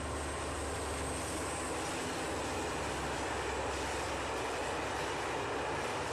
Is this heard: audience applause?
no